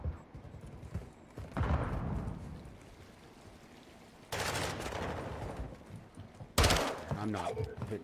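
Gunfire in a first-person team shooter game: bursts of rapid shots in a couple of loud stretches, with quieter gaps and game sounds between them.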